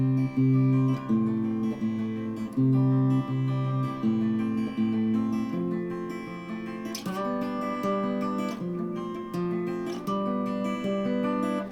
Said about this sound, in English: we'll go back and forth picking the 4 skinny strings